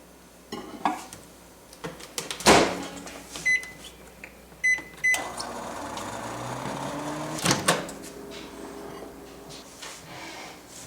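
A microwave oven's door clunks and buttons beep, then a low hum runs while a spoon clinks against a dish a few times.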